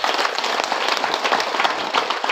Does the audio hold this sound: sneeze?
no